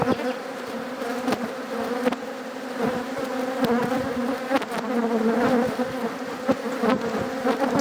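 Honey bees hum densely at beehive number 9, a close, steady buzzing swarm with individual bees darting past the microphone.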